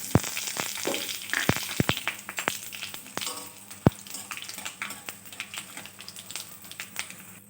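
Whole spices crackle and sizzle as they are tempered in hot oil in a wok, with sharp popping bursts and clinks over a soft frying hiss, fairly quiet and with no talking.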